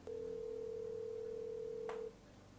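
A steady, unbroken telephone tone holds for about two seconds before cutting off abruptly, leaving only a faint hiss behind.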